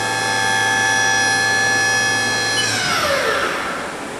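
Haas VF-4 CNC vertical machining center spindle running at 7000 rpm, a steady high whine with many stacked tones that holds level, then spins down and fades near the end, with no talk.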